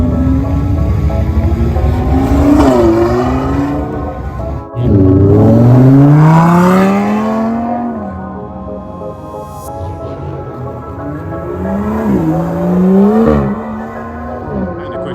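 Sport motorcycles such as a ZX10R, S1000RR, R1, 1199, CBR-RR and GSXR1000R at a street meet-up, revving loudly and close with rising pitches cut by quick-shifter upshifts, several climbing runs in a row, without talking.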